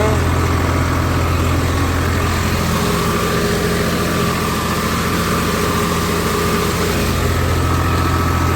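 A tractor engine runs steadily while puddling a flooded paddy field for rice planting, a loud, even, low drone with a constant mechanical hum throughout.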